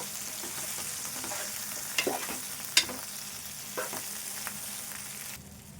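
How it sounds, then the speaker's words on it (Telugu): Okra pieces fry in a pan with a soft constant sizzle, broken by a few sharp scrapes and clicks of stirring, then fade near the end; no talk. "బెండకాయ ముక్కలు కూడా వేగాలి చాలాసేపు"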